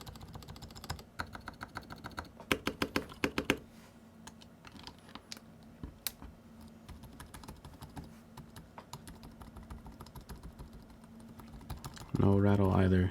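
Keys clack on a KBD67 Lite mechanical keyboard with lubed switches, slightly rattly, in quick bursts and scattered single presses, fairly close and quiet, followed by a brief burst of louder sound at the end.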